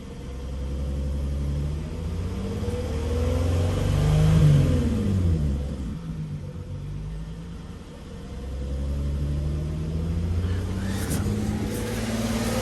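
The 78K-mile VR6 engine of a VW Atlas revs under throttle, rising to a loud swelling peak, dropping back, then climbing and holding a steady drone, heard close and alone.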